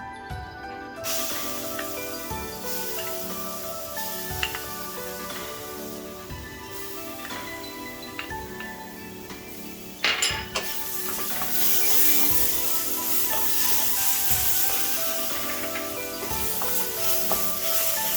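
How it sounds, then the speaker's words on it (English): Ginger garlic paste sizzles and fries in a hot pan for Konkani mutton rassa, a steady close hiss with occasional stirring clatter that grows louder and brighter when more is added partway through. "Now I'm going to add the ginger garlic paste also."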